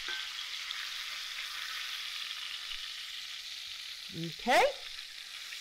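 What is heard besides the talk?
cod searing in a frying pan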